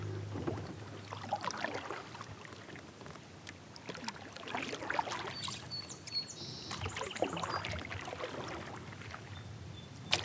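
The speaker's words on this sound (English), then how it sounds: "So right now I'm just paddling around looking for one more nice bass to catch." Canoe or kayak paddling while bass fishing in clear summer water, with soft irregular paddle strokes and water splashes close by, a few bird chirps in the background, and no talking.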